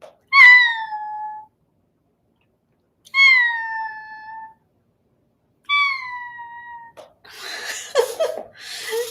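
A person imitates a cat with three drawn-out, clearly voiced meows, each separated by a short pause. A burst of laughter and breathy noise follows.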